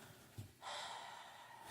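A short nasal sniff of a shirt close to the mic, then a sustained broadband hiss of breath or fabric that lingers to the end.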